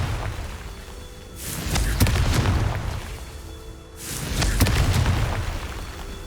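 Two deep booming blasts of the Confringo fire spell in Hogwarts Legacy, each a heavy rumbling explosion with crackle that swells and fades, spaced a few seconds apart, loud and near.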